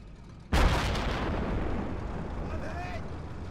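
A tank fires in the Project Reality video game, one sudden loud blast followed by a long rumbling explosion decay, with a voice speaking over the aftermath.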